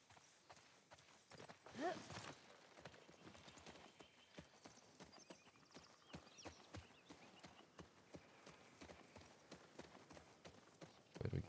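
Horse hooves clip-clop steadily at walking pace in The Last of Us Part II, with a brief whinny near the start, fairly quiet and heard alone without talk.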